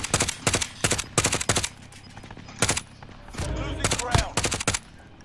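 Automatic weapon fire in a Call of Duty Modern Warfare Warzone match, loud bursts of rapid shots repeating in clusters throughout, with a brief gap and a sustained rumble near the middle.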